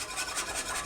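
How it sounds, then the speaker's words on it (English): Vanilla yogurt is whisked rapidly in a bowl, giving a steady, close scraping swish with a quick rhythmic pulse through a short burst. "Now, you see the way I'm whisking it? I'm whisking it pretty rapidly."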